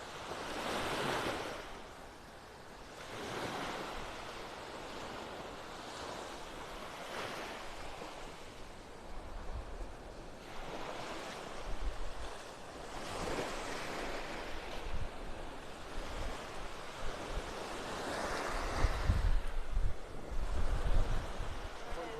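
Ocean waves roll onto the beach at Delnor-Wiggins in North Naples, Florida, each surge swelling and fading in a slow rhythm, with wind rushing across the microphone.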